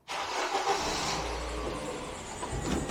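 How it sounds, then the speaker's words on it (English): A VW van's engine starts and runs steadily after a fuel line replacement, giving a continuous close rumble and hiss with a slight swell near the end. "Right, start the car."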